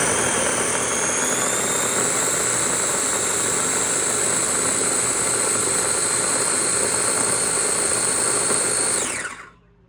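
An electric mixer grinder whirs at full speed, blending herbs and onions for homemade hair oil, a loud continuous high-pitched motor whine that winds down abruptly at the end.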